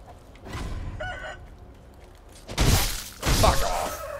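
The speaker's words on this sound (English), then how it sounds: "Did I just get rocked by a couple of chickens?" Chickens in the game Sekiro, around the Hirata Estate, let out a few squawking clucks, then two loud, crashing bursts of flapping and impact follow close together, sounding near and sharp with no speech over them.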